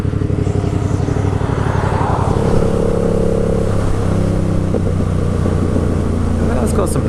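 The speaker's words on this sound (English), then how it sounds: "you get a little on the overrun, a nice little pop." A loud 2020 Yamaha MT-07 with a full GR Moto exhaust drones steadily with harmonic tones, with a few faint crackling overrun pops near the end as the throttle eases off.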